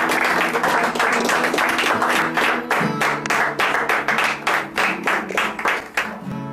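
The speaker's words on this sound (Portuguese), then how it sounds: "Dá um aplauso forte ao Rei da Glória." A church congregation claps loudly during a sermon. Dense applause gives way to strong, rhythmic unison claps that pulse steadily to the end.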